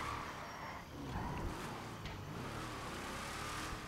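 A damaged, smoking truck engine in the video game GTA gives a steady, rough rumble that holds at a constant level for about four seconds with no speech over it.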